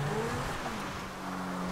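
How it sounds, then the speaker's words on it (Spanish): Motorcycle engine droning in the distance in GTA V, a steady low hum mixed into the game's ambient road noise, faint and continuous with no talking. "Escucho una moto a lo lejos."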